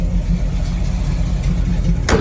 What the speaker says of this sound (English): Engine runs great. Replacement 396.